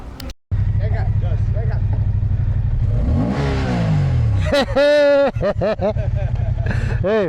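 Motorcycles rev nearby, with the engines rising and falling in pitch and a sharp rising whine toward the end, under a steady low hum. Voices are heard faintly underneath.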